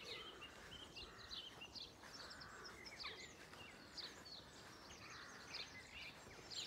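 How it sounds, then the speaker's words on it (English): Early-morning birdsong over a wildflower meadow, with several birds chirping and trilling at a moderate distance over a steady, quiet outdoor background and no talking. "I thought you'd like some birdsong."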